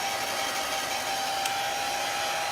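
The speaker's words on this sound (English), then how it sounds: "So now I'm just going to take my blow dryer really quick to make sure this is dry" A blow dryer runs steadily on its low, unheated setting, drying a transfer on a chalk-painted piece; a continuous close whoosh with no voices.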